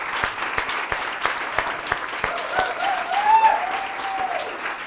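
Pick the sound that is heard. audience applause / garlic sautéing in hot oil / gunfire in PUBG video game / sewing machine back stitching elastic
audience applause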